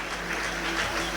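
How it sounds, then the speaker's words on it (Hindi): Students clapping at a school felicitation ceremony for SSC and HSC toppers, a steady dense patter of many hands, fairly faint and continuous with no voices over it. "तमाम तलबा तालिबात तालियां बजाते रहें।"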